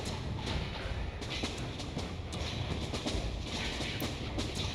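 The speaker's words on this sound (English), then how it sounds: "It's a turboprop-powered monorail?" A turboprop-powered monorail in the video game Gadget: Past as Future rumbles along with a dense, continuous rattling roar and clacking, loud and steady throughout with no talking.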